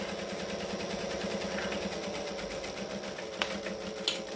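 A sewing machine runs a steady, even mechanical whir while stitching fabric for a traveller bag, with a couple of soft clicks near the end.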